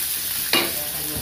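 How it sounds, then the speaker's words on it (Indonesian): Shallots and garlic sautéing in a pan, a faint steady sizzle with one brief louder scrape or stir near the middle. "Ini tumis bawang merah, bawang putih,"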